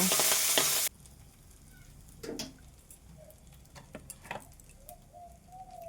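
A shol fish head fries in oil in a wok, a low steady sizzle with scattered pops and spatters after a brief loud burst of hiss at the start, no voices.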